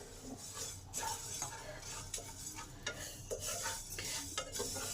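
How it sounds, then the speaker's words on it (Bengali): Coriander seeds fry over medium heat in a pan for mango pickle while a spoon stirs and scrapes them, giving faint, close, rhythmic scraping over a soft sizzle. "ধনেটা 1 থেকে 2 মিনিট ভেজে নেবেন।"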